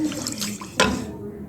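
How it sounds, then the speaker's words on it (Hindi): Milk is poured into a flour mixture for a white sauce for spaghetti pasta, a brief close liquid pour with a sharp splash near the end. "बाकी का दूध ही मैंने शामिल कर दिया है इसके अंदर।"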